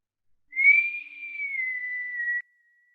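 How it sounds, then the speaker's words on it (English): A single sustained human whistle holds one near-steady tone for about two seconds, clear and close in an otherwise quiet room, with no speech. "Now the whistle, I don't know why I do it, but I'm told it breaks up some dense energy."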